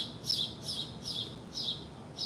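A small bird chirps in a steady series of five short high calls at an even pace, moderately faint, alone over light background noise.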